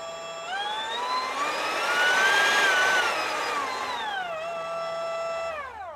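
A Makita cordless brushless angle grinder powered by a Lucid 20V battery whines up to speed, holds a steady high-pitched motor hum for several seconds, then winds down near the end, loud and close.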